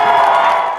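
Crowds celebrate outside a heavily guarded courthouse under National Guard watch, a brief burst of loud cheering and shouting voices blending into a dense roar.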